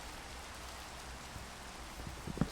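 Steady rain from a Minecraft video game server hisses as a soft, even wash, with a few faint drip-like taps near the end.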